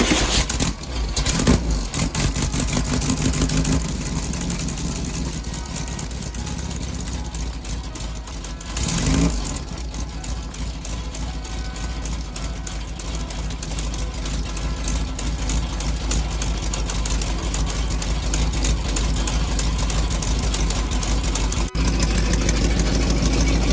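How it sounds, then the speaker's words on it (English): A 1968 VW Baja Bug engine, just back together after an oil cooler seal replacement, runs at a steady, loud idle throughout, with a brief surge partway through. "So I'm gonna start the motor and see what happens."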